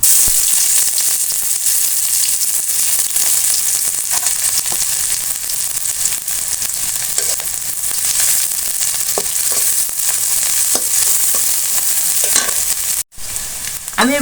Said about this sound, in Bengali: তেল গরম হয়ে গেছে আমি দিয়ে দিছি একটা এলাচ দারচিনি তেজপাতা এবং আমি দিয়ে দিচ্ছি পেঁয়াজ কুচি